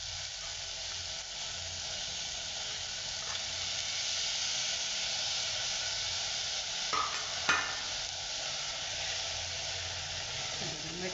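Moth beans and washed rice being sautéed in a pan, with a steady close sizzle and frying hiss throughout, broken by a couple of brief scrapes of stirring near the end.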